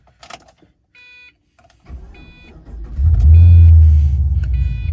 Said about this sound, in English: we're gonna take it for a spin down the street